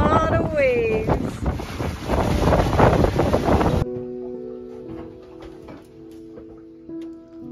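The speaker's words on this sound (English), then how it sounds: "We are at anchor, but it blows really hard and there are a lot of waves." Strong wind buffets a sailboat riding at anchor among heavy waves, a loud roaring rush with a bird chirping early on, then it cuts to a quieter stretch of low wind and faint ticking.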